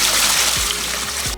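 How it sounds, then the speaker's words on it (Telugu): Water pours into a cooking pot for boiling eggs in a home kitchen, a steady close splashing stream that stops abruptly at the end. "ముందుగా దబరా పెట్టుకొని నీళ్లు పోసుకోవాలను"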